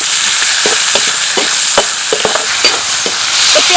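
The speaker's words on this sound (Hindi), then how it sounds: "धनिया डालने के बाद इसमें डाल देते हैं प्याज" Onions frying and sizzling in a pan with bay leaf and coriander for a bitter gourd curry, a steady broad hiss with repeated stirring scrapes and clicks close by, no talking.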